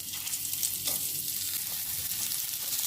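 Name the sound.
ridge gourd frying in mustard oil with spices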